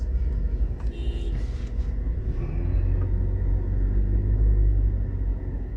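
Weekday afternoon traffic rolls along a downtown street in Kingston, Jamaica: a loud, continuous low rumble of engines with brief higher clatter and a passing horn-like tone early on, with no talk heard.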